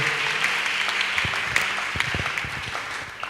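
Steady, continuous applause from a church congregation acclaiming the Lord, a dense crowd clapping at an even level for a few seconds with a few sharper claps standing out.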